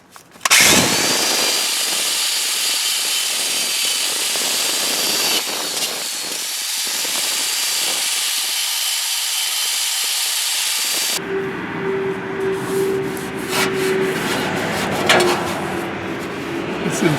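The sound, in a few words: power tool sanding rust off new weld metal under Jeep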